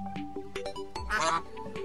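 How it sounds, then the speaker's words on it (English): A duck in the video game Terraria quacks amid busy game sound effects and background music, one prominent quack rising above the steady layered game audio. "That is a duck."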